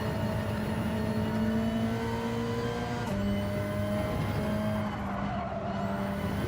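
A race car in Gran Turismo 7 runs off into the gravel, its engine droning steadily with a whirring, scraping rumble and a brief shift in tone midway. The sound carries on alone without talk.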